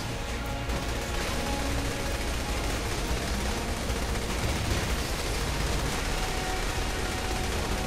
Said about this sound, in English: shooting pink missiles of terror